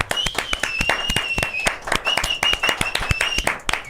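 Sharp, evenly spaced claps ring out close and distinct, with a thin high whistling tone running beneath them.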